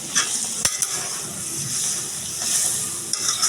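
Cut and washed fish, cooked with pointed gourd, goes into water at a rolling boil. A constant bubbling, sizzling wash fills the pot, broken by a sharp clink or two, and no one speaks.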